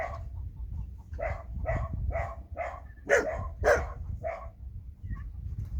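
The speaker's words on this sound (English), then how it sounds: "That's my dogs. They hear somebody coming down the road." A few dogs bark in repeated bursts, some sharper and louder yelps standing out, with a low rumble of outdoor background beneath.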